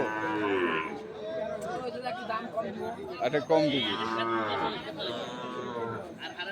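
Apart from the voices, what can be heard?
Sahiwal breed calves mooing at a cattle market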